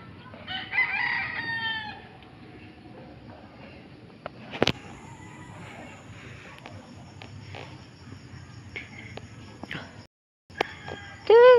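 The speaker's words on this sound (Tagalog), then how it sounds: "Tiyo, daming manok." Roosters crow loudly at the start and end, with chickens clucking and scattered farmyard noises in between, and a voice briefly heard.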